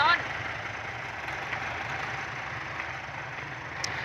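A Ford farm tractor runs with its engine pushing hard, lifting one wheel off the ground; a steady mid-range engine drone continues throughout at moderate distance, with faint crowd chatter beneath.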